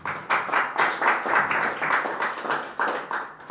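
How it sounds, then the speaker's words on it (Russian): Brief clapping from a small group at a DJ master class, with distinct clusters of hand claps in an uneven rhythm, close and fairly loud, and no speech. "Аплодисменты пока."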